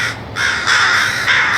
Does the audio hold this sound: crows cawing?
yes